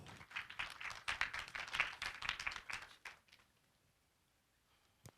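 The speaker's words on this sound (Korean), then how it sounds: "여러분 박수 부탁드리겠습니다." An audience at a university online journalism awards ceremony claps in a lively, close burst of applause for about three seconds, then it stops abruptly, leaving near silence broken by one faint tap.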